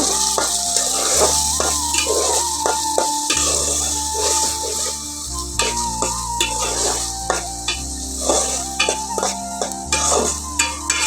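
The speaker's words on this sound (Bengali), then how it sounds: "আমি ভালো করে মশলাগুলো কষিয়ে নেব" Ground spices and coriander powder sizzle as they are fried and repeatedly stirred in a pan while cooking chicken with flat beans, with rhythmic scraping strokes of a utensil over a steady frying hiss.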